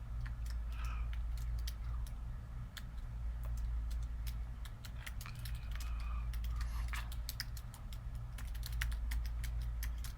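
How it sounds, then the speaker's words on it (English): Rapid typing on a computer keyboard while using DitStorm Cypher software, a steady stream of sharp clicks and taps close to the mic, over a low constant hum. "I'm going to type a little bit longer message."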